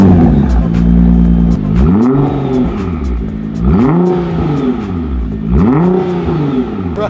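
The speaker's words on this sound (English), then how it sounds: "I'm gonna start the car up and see how it is." A Nissan GT-R fitted with a Kline exhaust with carbon fiber tips starts and idles with a loud, throaty rumble, then is revved three times in a steady rhythm, each rev rising sharply and falling back to idle, close up.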